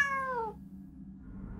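A cat gives a single clear, drawn-out meow that falls in pitch, followed by a quiet room hum, with no one speaking.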